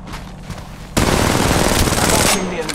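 Automatic weapon fire in the mobile shooter Apex Legends Mobile, a sudden loud, rapid burst of shots lasting over a second before tapering off, over quieter game ambience.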